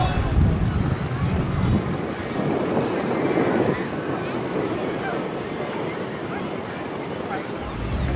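The Southport jet boat at Pleasureland comes in with a steady, loud engine roar that holds constant and near, with no talk over it.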